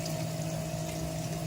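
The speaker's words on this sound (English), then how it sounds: "we open up this valve right here, it starts pumping water out of the main tank" An aquarium water-change pump draining water from the main tank into a bucket, a continuous close hum with a steady watery rush, unbroken and without talk.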